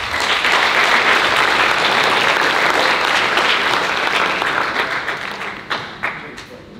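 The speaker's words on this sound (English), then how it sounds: "Let's give them a round of applause." At a student athlete awards and college signing event, an audience applauds two coaches, loud sustained clapping that thins out toward the end into a few scattered claps.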